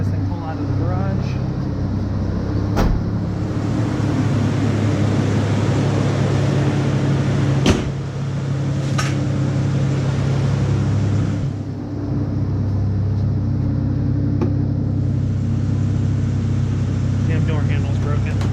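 A car engine idles steadily after starting in a garage, a low constant rumble with a few sharp clicks and knocks over it.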